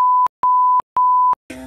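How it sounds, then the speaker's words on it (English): Four steady, loud censor-bleep tones in a regular on-off rhythm cover cursing, with a short burst of garbled sound right after the last one. "You know I gotta beep out every single curse word."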